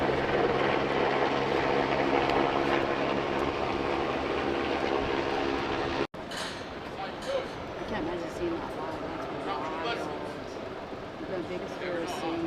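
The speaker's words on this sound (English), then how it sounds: "Helicopter" A helicopter in flight makes a loud, steady rotor roar for about six seconds. Then the scene cuts to a quieter, noisier background with voices.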